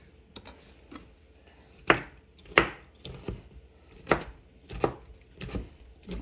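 Carrots are chopped with a knife on a cutting board at home in a series of sharp, close knocks, roughly six to eight irregular strokes spaced about half a second to a second apart, with no talking.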